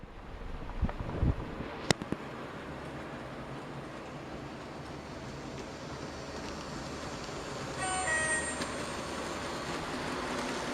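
A model railway locomotive runs along its track with a steady, close rolling rumble. A thin wheel squeal rises briefly near the end, and no one speaks.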